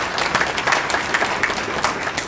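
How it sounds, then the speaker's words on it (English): Audience applause at a community State of the Community address, a steady wash of many hands clapping for about two seconds, moderately loud and even, with no talk over it. "I think that deserves a round of applause."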